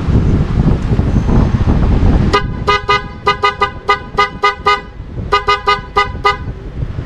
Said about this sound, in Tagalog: At ito ang tunog ng Smoke Viper snail horn.